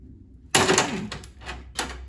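A ratchet strength test snaps a weld with one sharp, loud crack, followed by a couple of fainter metallic clicks and knocks nearby.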